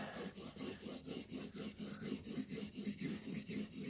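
Knife re-profiling on a TSPROF Blitz 360 sharpener, abrasive stone scraping along the blade in quick regular back-and-forth strokes, about four per second, close and quiet.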